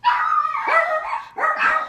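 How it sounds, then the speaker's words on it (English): Dogs bark and howl in a kitchen, several loud, drawn-out yowling barks close by with short gaps between them, no talk over them. "besides dogs barking,"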